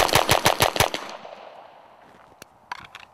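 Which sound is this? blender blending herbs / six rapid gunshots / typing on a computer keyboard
six rapid gunshots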